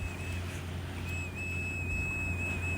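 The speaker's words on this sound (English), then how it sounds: "There goes Roy blowing his whistle." A man blows a whistle on a beach. It is a steady, thin, high tone heard from some distance and held for the whole stretch, with small wavering pitch over a constant low rumble of surf and wind.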